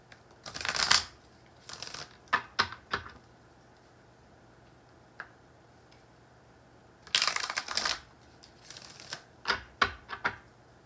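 Tarot cards being shuffled come in two bursts of riffling and slapping, each made of several quick, close flutters and taps, with a quiet gap between them and no talking.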